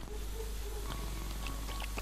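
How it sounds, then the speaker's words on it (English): A cat purring up close: a soft, steady low rumble running continuously, with a few faint rustling touches and no talking. "Oh, he's purring."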